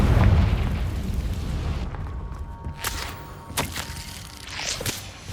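A fiery spell explosion in the video game Hogwarts Legacy bursts with a loud low boom at the start, then rumbles and crackles away, with a few sharp pops and footsteps following.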